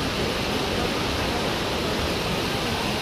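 Water pours steadily at Hogenakkal Falls while the flow runs low, giving a loud, unbroken rushing hiss close by with no pauses.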